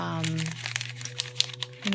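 Parchment paper crinkles and rustles under handling for a junk journal, with sharp little crackles scattered throughout while someone talks over it.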